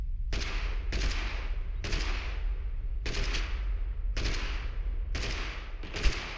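Gunfire in the game Totally Accurate Battlegrounds (TABG) comes as a series of loud, sharp bursts at roughly one-second intervals. Each crack decays quickly, with one sharper hit near the end.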